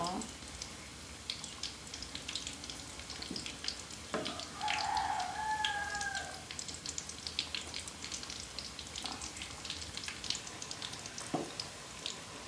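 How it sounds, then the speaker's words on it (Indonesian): Tempeh and egg fry in hot oil with a steady crackling sizzle that runs throughout, with scattered sharp pops over a quiet, even background. "Goreng sampai kuning keemasan ya teman-teman"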